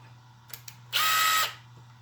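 A Makita LXT brushless sub-compact impact driver runs in one short, loud half-second burst close by after two faint clicks, then goes quiet.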